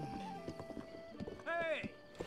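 Hooves of a tamed wild horse clopping in the video game Zelda: Breath of the Wild, with a short whinny in the middle, quiet under game music.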